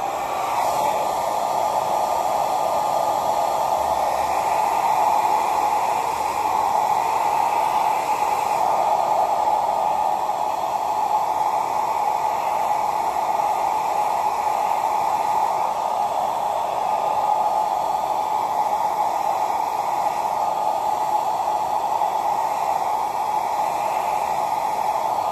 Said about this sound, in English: you may have noticed when I was blow drying this